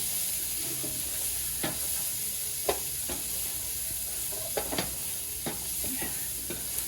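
Chopped onions simmer and sizzle steadily in a pan, a constant frying hiss with occasional sharp pops and stirring scrapes, close and alone without talk.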